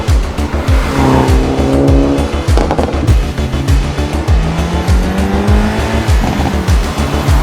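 A 2022 Hyundai Elantra N is driven hard, its engine loud and close with a rising and falling drone, rapid rhythmic low pulses from the exhaust, and tire squeal running underneath.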